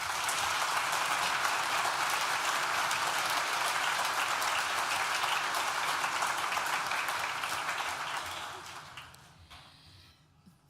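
A graduation ceremony audience gives thanks with a long, dense round of applause, loud and steady for most of its length before thinning and fading out near the end.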